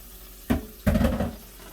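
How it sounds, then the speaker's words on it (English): Pineapple juice is poured into a hot pan while cooking baby back ribs, giving two quick splashing gushes of liquid with a faint sizzle, loud and close. "I'm also going to add 3/4 cups of pineapple juice."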